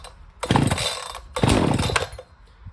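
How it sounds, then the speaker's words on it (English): ECHO CS-590 Timberwolf 24-inch chainsaw pull-started from cold with choke on: two sharp rope pulls, each a brief burst of rasping engine turnover, loud and close, without the engine catching. "let's go ahead and cold start this thing"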